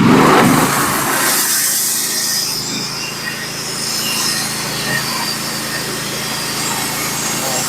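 A Norwood HD36v2 sawmill cuts 3/4 x 4 inch, 14-foot pitch pine boards with a loud, continuous engine drone and blade whine. The sound holds steady, with a sharper attack at the very beginning.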